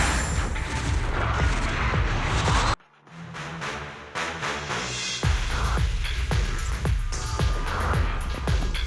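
Dense, booming artillery and rapid gunfire in a Zenless Zone Zero cutscene, a loud continuous barrage that drops out briefly, then resumes with sharp repeated blasts.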